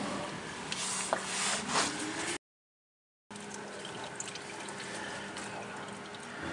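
Transmission fluid draining from a 2015 Lexus NX200t, a faint steady trickle and splash of liquid running into a pan, continuous apart from a brief silent gap midway.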